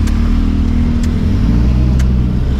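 A 1992 Daihatsu Zebra Turbo S89 drives with a loud, close, steady engine drone that rises slightly as it accelerates, with faint clicks over the rumble.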